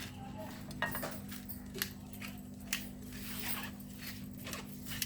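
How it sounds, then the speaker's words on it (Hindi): Black peppercorns crushed by hand for smoky beef qeema, giving a few sharp, brittle cracks spaced about a second apart over a steady low kitchen hum, close and fairly quiet. "साथ में हमने ये है तो काली मिर्ची, इस तरह हम इसको क्रश करेंगे"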